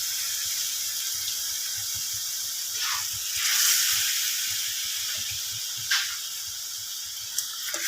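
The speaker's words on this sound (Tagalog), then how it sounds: "igisa-gisa ko lang siya ng bahagya" Bitter gourd leaves sauté in a small pan with a steady, close hiss of sizzling oil that swells briefly and carries a few faint clinks, and no voices.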